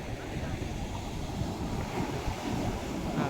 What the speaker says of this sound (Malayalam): നല്ല തിരമാലകൾ ഈ വഞ്ചിക്ക് ഈ തിരമാലകളെ എതിരിങ്ങനെ വിടണ കാണുമ്പോൾ ഒരു പ്രത്യേക ഭംഗിയാണ്